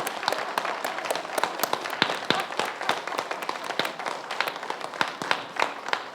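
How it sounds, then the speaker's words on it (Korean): A small church congregation at a Wednesday dawn worship service claps along in quick, uneven rhythm, distinct sharp hand claps close by over a faint background for about six seconds. "웃음 박수 준비"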